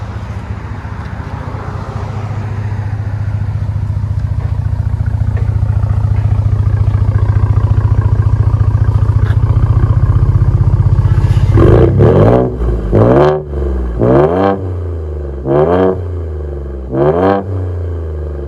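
A 2017 Ford F-150 EcoBoost V6 with a Dynomax Race Bullet exhaust and resonator delete idles with a deep, loud rumble, then is blipped through a series of sharp, rising revs in quick succession, close to the tailpipe.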